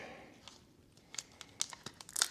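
Backing peeled off a motorcycle tire repair plug close up, a short series of faint crinkling, papery tearing crackles that grow sharper toward the end, with no talking.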